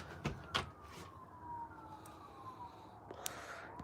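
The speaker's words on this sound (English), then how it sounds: "I hear sirens" A faint, distant siren wails with a slowly falling tone over quiet background noise, with a couple of soft knocks near the start.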